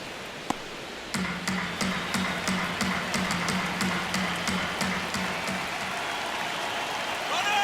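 Steady stadium crowd murmur at Dodger Stadium in MLB The Show 26, a broad wash of noise with a few sharp pops and clicks, and a commentator talking over it.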